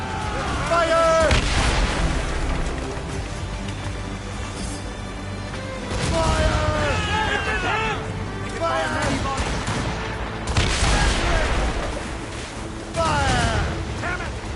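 Ship cannons boom in repeated heavy volleys during a naval battle in Assassin's Creed Rogue, the loud blasts spaced a few seconds apart amid shouted crew orders and ambient sea noise.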